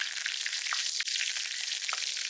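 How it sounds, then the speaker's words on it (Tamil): Dal, dried red chillies and curry leaves sizzle in hot oil in a kadai, a loud, close, continuous crackling fry with small pops scattered throughout. "இப்போ கடல் போட்டுக்கலாம் காஞ்ச மிளகாய் கருவேப்பிலை"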